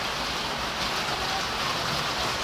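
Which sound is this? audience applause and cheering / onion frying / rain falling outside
rain falling outside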